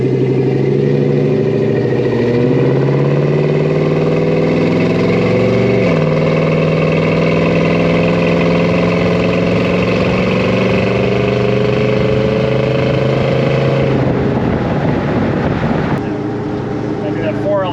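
A 5.3-liter LS V8 in a patina 1969 Chevrolet C10 pickup with a 4L80E automatic drones steadily from inside the cab, its pitch climbing and dropping through shifts on a test drive, loud and continuous.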